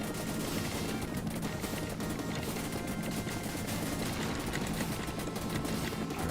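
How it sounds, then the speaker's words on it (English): Rapid machine gun fire in the arcade game Super Contra: dense, continuous bursts of retro game shots at a loud, steady level throughout, with no one talking. "We got the double stacked machine gun."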